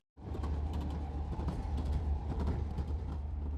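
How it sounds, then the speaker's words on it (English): Train's metal wheels rumbling continuously along the track, a loud, steady roar with rhythmic clatter and no voices. "It was making the sound of metal wheels running on a track"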